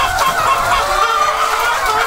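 Chickens on a small backyard farm, raised as RTL (ready-to-lay) hens, cluck steadily and close by over a few seconds, with no one speaking.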